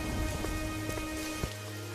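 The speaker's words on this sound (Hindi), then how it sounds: "वो दोनों अपनी बेटी को लेकर मंगतू के घर के तरफ उस तेज बारिश में चलते हैं" Heavy rain pours steadily in an animated cartoon, with dense patter and a few sharper drops over a low hum, loud and with no voices.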